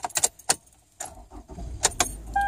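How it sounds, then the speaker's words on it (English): Car keys jangling, then a car being started in extreme cold around 18 below, with a rising rumble as the engine cranks and catches near the end, close and fairly quiet. "let me start the car"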